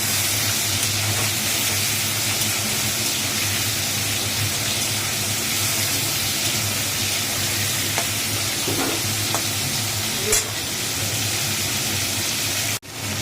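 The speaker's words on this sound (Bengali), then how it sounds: "চিংড়ি মাছটা একটু ভেজে নিয়ে তেজপাতা ফোড়ন দিয়ে চিংড়ি মাছটা দিয়ে দিল দিয়ে এবার এটা একটুখানি ভালো করে ভাজবে" Shrimp frying in a pan with bay leaf, giving off a loud, steady sizzle that runs the whole time with only faint stirring touches.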